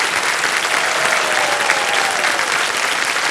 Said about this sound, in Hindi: एक बार फिर जोरदार तालियां बज जाएंगी।